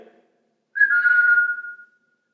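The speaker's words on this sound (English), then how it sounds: "If you can hear me whistle, do it just like me." A single clear whistled note, held for about a second and tapering off, in an otherwise quiet space.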